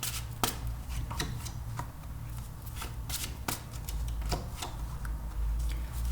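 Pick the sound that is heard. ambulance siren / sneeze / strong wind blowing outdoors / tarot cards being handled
tarot cards being handled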